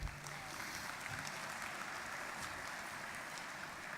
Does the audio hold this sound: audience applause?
yes